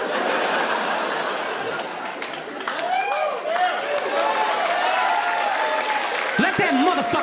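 A stand-up comedy audience breaks into loud, sustained applause mixed with laughter and whoops. The sound swells and holds, and voices cry out through the clapping.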